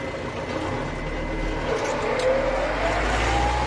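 A Kata KE 504 tractor's engine drones steadily and loudly while ploughing very heavy, hard soil in fourth gear, a continuous low rumble with a faint rising whine and no talk.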